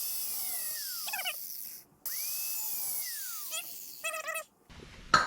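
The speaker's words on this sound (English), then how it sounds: "I got my little Ryobi impact here" A small Ryobi impact driver hammers in two short, sharp rattling bursts on the leaf spring hardware of a 1980 Ford Courier, each preceded by a rising and falling whine, close by with no voices.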